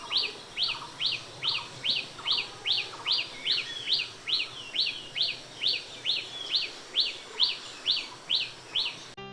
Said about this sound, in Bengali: অনেকগুলো পাখি ডাকছে, আর পাখির ডাক শুনতে আমার খুব ভালো লাগছিল